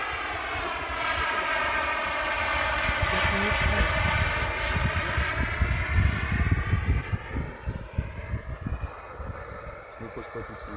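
A turbine-powered RC jet model of the Aermacchi MB-339 in flight, its engine a loud sustained whine that sweeps in pitch as it passes, with wind buffeting and people talking nearby.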